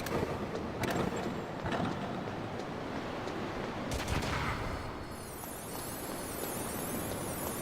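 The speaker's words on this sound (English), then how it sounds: "Chaff grenade. Let's throw it." Chaff grenade thrown in a Metal Gear Solid-style stealth game, a crackling burst and dense static-like fizz with sharp pops, continuous and fairly loud.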